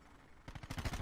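Rapid pistol gunshots in a first-person shooter video game, a quick burst of several close shots in the second half, quiet overall.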